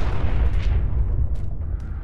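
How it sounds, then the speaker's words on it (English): Grenade explosions in Fallout 4 roll out as a dense, continuous low rumble of booms, heavy and sustained throughout with a few sharper bursts on top. "I threw some grenades and things were fine"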